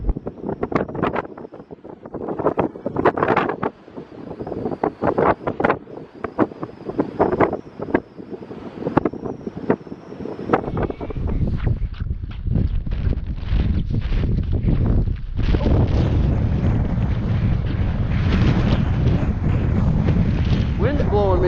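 Strong wind on a frozen Montana lake during ice fishing, buffeting the microphone in heavy gusts and roaring rumbles that build to a constant loud blast, while people talk faintly beneath it.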